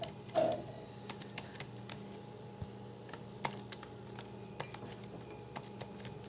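Typing on a computer keyboard while filling in a spreadsheet, scattered light key clicks at an uneven pace with one louder thump near the start, quiet and close, without speech.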